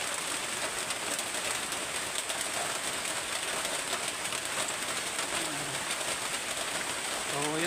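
Rain pours in a constant, even hiss throughout, with a faint voice murmuring briefly near the end beneath the downpour.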